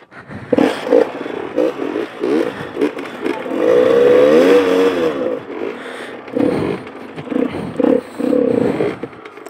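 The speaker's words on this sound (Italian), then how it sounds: "Sta arrivando la macchina, chi è?" An enduro motorcycle engine draws closer and swells to a steady roar, with clattering and revving bursts around it and no talking.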